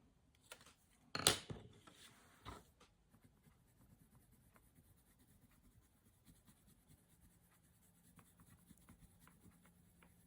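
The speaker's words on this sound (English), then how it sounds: "These pencils are nice and waxy, so the colour comes off with just a little bit of a swirl" Waxy coloured pencils colouring on paper in an altered book collage, faint soft scratchy strokes and swirls close by, with a brief louder scrape near the start and then quiet steady shading.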